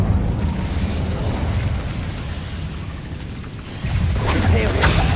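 An Incendio fire spell cast in the wizarding game Hogwarts Legacy, a low rumbling burst of flame with a whooshing roar that swells near the end.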